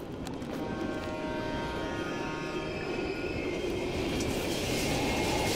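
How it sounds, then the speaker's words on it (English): A train rumbles past through an abandoned station in Call of Duty: Black Ops Cold War. The steady, loud rolling roar carries faint metallic squealing tones and continues without pause. "We can use a train to slip past."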